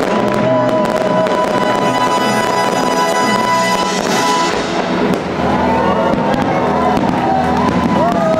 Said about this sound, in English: Okay, so fireworks, amazing